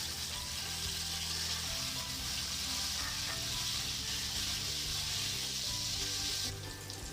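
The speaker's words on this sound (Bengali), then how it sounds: "এবার আমি ফুলকপিগুলো ভেজে নেব।" Cauliflower florets fry in hot oil, a steady close sizzle and crackle running throughout with faint stirring.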